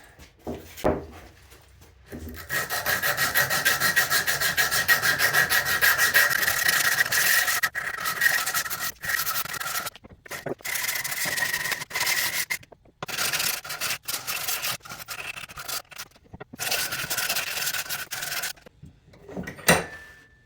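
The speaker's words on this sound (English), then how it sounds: "Time to get it roughly sanded." A wooden swimbait lure gets rough-sanded with a steady, loud abrasive rasping that runs for most of the stretch. The sanding stops briefly several times and then picks up again.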